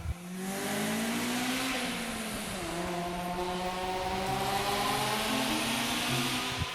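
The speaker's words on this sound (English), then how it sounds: "One of the most iconic Japanese engines ever made, the B-Series. A high-revving, dual overhead cam, notoriously unkillable engine." A Honda B-Series dual overhead cam engine revs hard and climbs steadily through the gears, a loud, close, high-pitched wail with rising harmonic tones and no talking.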